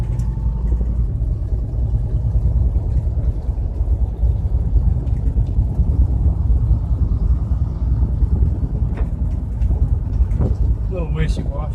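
A 1977 Ford F100 Custom barn-find truck drives along, its engine chugging in a low, steady rumble with road noise, and people talk faintly over it.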